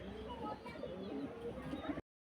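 Pigeons coo softly in a low, throaty murmur, with a faint voice mixed in; the sound cuts off abruptly near the end.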